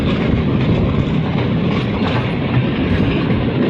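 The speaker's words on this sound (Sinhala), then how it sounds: "මෙන්න මේ තමයි මේ දුම්රිය එන්ජින් එක." Diesel locomotive engine on a Sri Lankan railway line near Puttalam, hauling cement-factory freight, a loud steady rumble with rhythmic wheel clatter and no talk.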